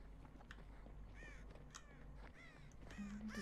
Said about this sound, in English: Disturbing the birds.